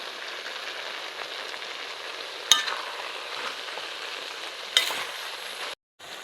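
Curry leaves and tempering sizzle in hot oil in a pan while being stirred for a raw jackfruit palya, a steady close frying hiss with two sharp spatters and no talking.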